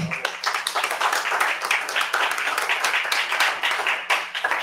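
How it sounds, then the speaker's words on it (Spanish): An audience at an academic talk on ecumenism and interreligious dialogue claps for Valentina, a lively burst of many individual claps close by, fluctuating in intensity and tapering near the end. "Un aplauso para Valentina."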